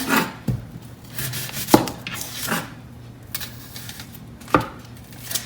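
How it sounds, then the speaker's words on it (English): A knife cuts half an onion into thin slices on a cutting board for street tacos. A few sharp, irregular chops land close by, separated by quieter rustling and slicing. "you wanna cut half an onion"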